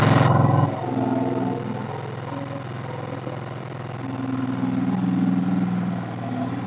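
A Suzuki V-Strom DL650 motorcycle, just fitted with a replacement for its burnt-out wiring loom, cranks with a brief loud burst, then settles into a steady, close engine idle that swells slightly toward the end.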